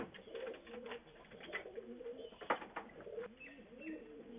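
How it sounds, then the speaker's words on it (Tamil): Pigeon cooing nearby, several soft low coos in short phrases with a few chirps and faint background sounds. "இது சாதா புறானே."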